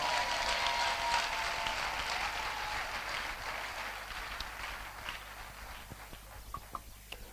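A church congregation at a Pentecost service claps in steady, dense applause that fills the room, slowly fading and thinning into scattered claps near the end.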